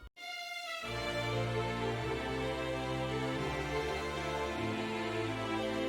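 A calm orchestral passage with a violin lead over double bass, choir and violas, beginning after a brief lone high note and then swelling into a steady, sustained full ensemble.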